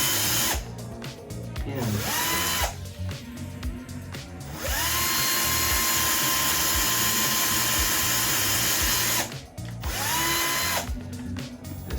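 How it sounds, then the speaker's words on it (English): A power drill drives a screw in repeated bursts, long stretches of steady high whine separated by short pauses and clicks, loud and close. "This is a lot easier with a nice electric drill like this."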